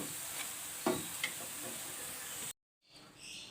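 Mixed vegetable pakoras deep fry in hot oil with a steady crackling sizzle and a few sharp pops, close and continuous, before the sound cuts out briefly and resumes softer.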